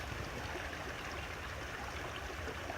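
A mountain stream rushes steadily close by along the Appalachian Trail near Annapolis Rocks, a constant broadband flow of water with no talk, while a water bottle is filled.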